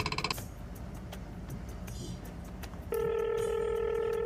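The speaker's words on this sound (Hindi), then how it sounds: "गुरुजी का नंबर लगाना ही पड़ेगा" A telephone call is dialed: a few quick keypad tones, then a steady ringback tone comes through the handset over low background noise.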